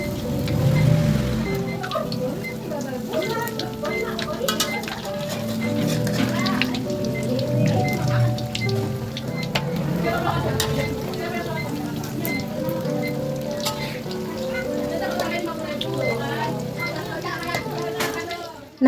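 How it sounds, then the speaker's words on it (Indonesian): Corn fritters (bakwan jagung) sizzle in hot frying oil in a home kitchen, giving a steady crackling hiss like rain throughout, while children's voices and talk carry on in the background. "ini dia untuk bakwan jagungnya, masih aku goreng ya teman-teman"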